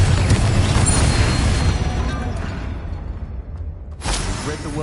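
An Incendio fire spell is cast in a Harry Potter video game, making a loud whooshing burst that fades away. A second sharp flare follows near the end.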